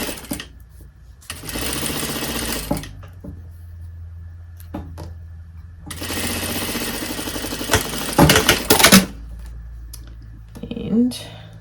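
A sewing machine stitches a seam with a one-centimetre allowance on a Francesca body with frill, in two sustained loud runs separated by a quieter stretch of clicks and handling noise.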